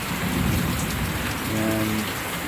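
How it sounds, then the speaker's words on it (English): A summer hailstorm with heavy rain in Central Florida makes a steady, dense hiss of falling rain and pelting ice, with a low rumbling undertone throughout and no voices. "Oh, there's a lot more hail coming in."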